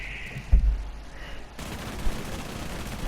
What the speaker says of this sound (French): fais un shoot avec le pistolet mitrailleur maintenant